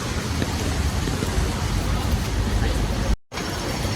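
Steady, dense patter of heavy rain with a constant wash of noise, briefly cutting out near the end before resuming.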